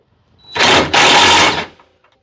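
A powered wrench drives a lag fastener on a through-frame slide rack arm, giving two loud, close buzzing bursts about a second long in total, separated by a brief gap, with silence before and after.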